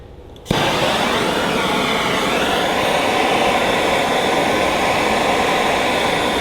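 A gas torch roars steadily while heating a seized pin on a Ferguson TEA20 tractor, igniting abruptly after a moment of quiet and then burning loud and close with a constant hiss.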